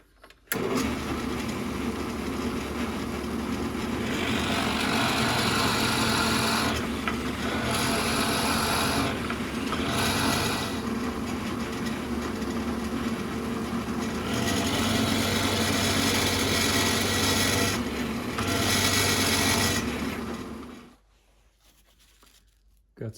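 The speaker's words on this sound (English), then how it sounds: "I'm gonna drill out a pocket here for the lead to slide into" A drill bores a pocket for lead into the wooden keel of a Greater Scaup drake decoy, a loud, continuous rasping whir running for about twenty seconds with a few short dips before it stops.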